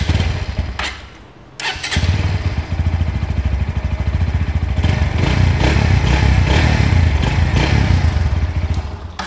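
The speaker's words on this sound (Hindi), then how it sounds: "आप इसका एक बार एग्जॉस्ट नोट भी ले लीजिए कैसा ये साउंड करती है।" A 2024 Bajaj Pulsar NS160 with an underbelly exhaust starts up after a few clicks, then settles into a loud, close, throbbing idle with a steady rapid pulse and slight revving swells.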